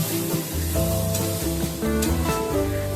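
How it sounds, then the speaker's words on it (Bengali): Banana stem paste being fried with spices in a pan for a Bengali curry, a loud continuous sizzle and crackle with stirring scrapes, close and steady throughout. "মশলার সাথে এই যে থোরের পেস্ট, এটাকে খুব ভালো করে কষিয়ে নেব যাতে কোনো রকম কাঁচা ভাব না থাকে"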